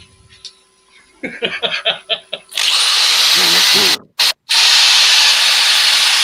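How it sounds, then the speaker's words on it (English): A wood piece being sanded with a power tool: a few short rhythmic bursts give way to a loud, continuous abrasive whir that cuts out briefly twice before resuming. "Just watch Wayne sand right through the bottom."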